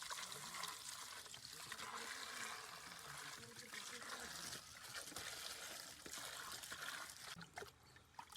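Raw mangoes are washed in water for pickle, a steady trickling and splashing of liquid that stays close and continuous throughout.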